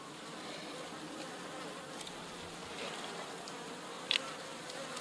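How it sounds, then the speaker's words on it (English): Honey bees buzzing around an open hive during an inspection, with the colony bringing in nectar and pollen: a steady, soft, continuous hum of many insects, with one brief louder close pass near the end. "Yeah, they're bringing nectar and pollen in here, so that's good."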